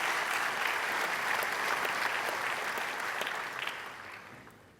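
Applause for the First Lady at a high-level opening ceremony with heads of state present, a sustained, even roar of many hands in a large hall that gradually fades out toward the end.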